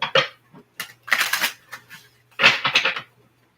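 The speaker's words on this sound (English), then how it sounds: "Last shuffle." Tarot cards are shuffled by hand in a few short, crisp riffling bursts separated by pauses, close and fairly loud, with no talking over them.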